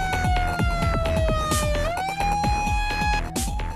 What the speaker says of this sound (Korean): 다시 한번 대피 사이렌이 울려 퍼진다.